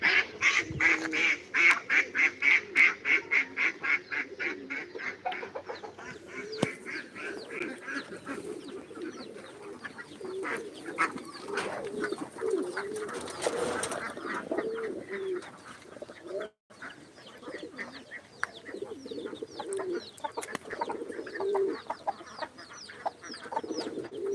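Pigeons kept at home coo repeatedly close by, their throaty calls overlapping with other bird chatter in a continuous, busy backdrop.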